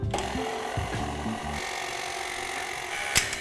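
A stand mixer with a whisk attachment runs on its lowest setting, mixing Cambodian curry ingredients. A low, humming motor with a mechanical rattle is followed by a thinner whir and a brief knock near the end. There is no talking.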